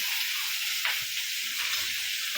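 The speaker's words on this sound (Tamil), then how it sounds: "தக்காளி போட்டுடுவோம்." Tomatoes go into a frying pan for a crab curry, and a continuous, fairly quiet sizzle and hiss carries through, with a brief soft splash-like burst near the middle and no voices.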